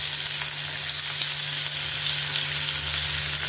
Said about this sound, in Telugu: ఆయిల్ హీట్ అయింది. ఇప్పుడు ఉల్లిపాయలు వేసేసుకుందాం.